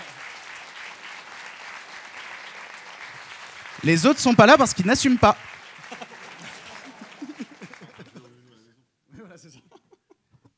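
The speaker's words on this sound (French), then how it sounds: "Au moins se faire applaudir un grand coup parce que vous méritez ces applaudissements." Audience at a French streaming meet-up event bursting into brief loud applause for about a second and a half, framed by someone talking before and after.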